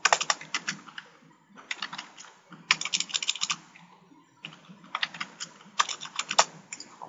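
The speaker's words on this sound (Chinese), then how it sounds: "我现在打字因为网络的关系，所以打字打出来都怪怪的" Fingers typing on a computer keyboard, producing quick bursts of crisp key clicks separated by brief pauses, close and clear with no talking.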